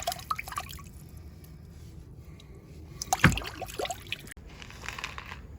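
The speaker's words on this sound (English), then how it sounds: "Just gonna take some of that fish that I caught and rinse them off." Freshly caught bluegill are rinsed in a small hole of backwater. Soft drips and trickling splashes come and go, with one stronger slosh in the middle, heard close and alone.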